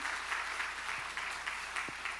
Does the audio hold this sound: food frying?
no